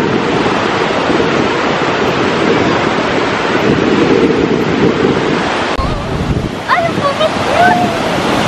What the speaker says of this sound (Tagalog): Alam niyo sa sobrang lakas ang bagsak ng tubig, ano siya, parang may pa-shower sa amin.